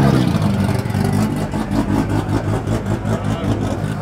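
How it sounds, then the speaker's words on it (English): Modified Nissan RB engine with an aggressive camshaft idling loudly up close, a choppy, lumpy rhythmic pulse with uneven beats, the surrounding noise of an outdoor car meet behind it. "Speaking of camshafts, listen to the chop. The RB chop on this one."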